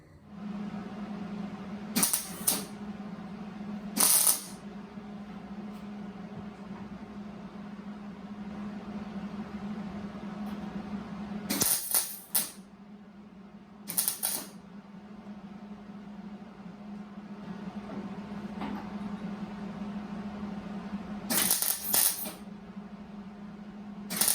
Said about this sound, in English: So let's fire up the welder. Let's get it welded in there.